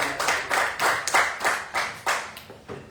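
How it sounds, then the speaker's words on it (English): A few people at a City Island community meeting clap for Assembly Member Michael Benedetto, about ten distinct, fairly close hand claps in a loose, uneven rhythm, dying away. "Let's give him a round of applause."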